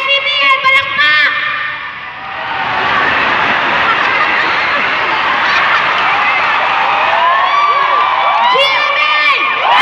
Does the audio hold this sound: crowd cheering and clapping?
yes